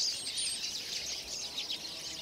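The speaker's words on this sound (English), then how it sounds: "Birds chirping together can create quite a racket, like these chirping in a spruce tree." A flock of birds chirps together in a spruce tree, a dense, high overlapping chatter of tweets that is continuous and moderately loud, with a soft low background and no talking.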